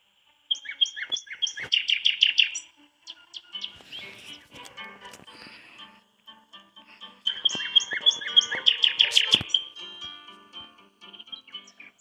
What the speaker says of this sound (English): Oh, it's a red bird.